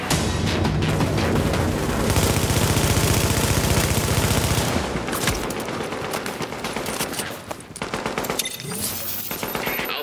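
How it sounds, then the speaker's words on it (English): Sustained automatic gunfire and booming explosions from a video game battle around a contested fortification, loud and continuous with dense overlapping bursts throughout. "The fortification is now taking fire."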